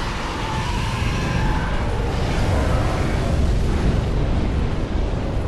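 A dragon looses a long, roaring torrent of fire in Dark Souls 3 at Lothric Castle, a dense continuous whoosh and crackle that fills the scene loudly without pause.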